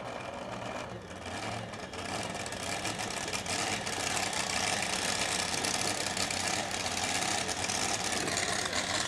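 A yellow 1923 Model T engine runs loud and steady at a truck pull, a dense continuous mechanical roar with constant rough texture and no voices over it.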